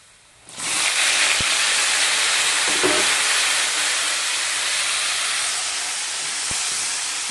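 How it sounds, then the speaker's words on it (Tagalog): Shrimp adobo (adobong hipon) cooking in a pan sets off suddenly into a loud, steady hissing sizzle that holds evenly, with a couple of faint clicks over it. "magluto ako ng adobong hipon"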